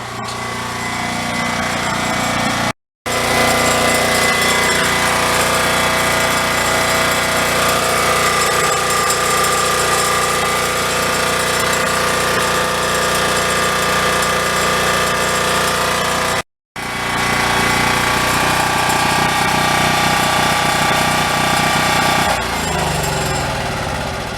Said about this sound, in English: So the generator's making kind of like a clinky sound.